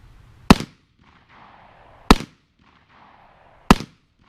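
Three loud, close 9mm Critical Duty pistol shots fired into a meat target, each a sharp crack with a short tail, evenly spaced about a second and a half apart, with quiet between and no talk.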